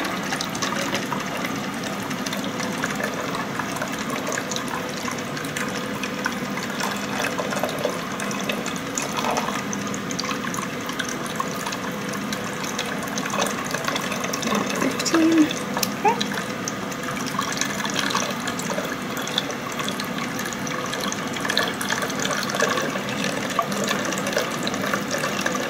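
Water running steadily into a Pleurevac chest drainage unit in a NICU setting, a continuous close trickle and wash lasting throughout with a few faint clicks and handling noises.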